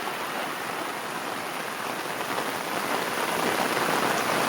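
Heavy monsoon rain pours down in Konkan beside a flooding river, a dense, unbroken hiss of drops striking surfaces that stays loud and even throughout.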